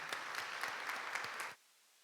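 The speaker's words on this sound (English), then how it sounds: "give them a round of applause, our founding leaders and everybody I just mentioned" A crowd at a healing champions event gives a round of applause for its founding leaders, dense steady clapping that fills the room for about a second and a half before stopping abruptly into silence.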